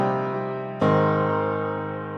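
Piano plays simple triad chords for a pop country chorus: one sustained chord rings, then a second chord strikes with a bright attack at under a second and decays slowly, alone without voices.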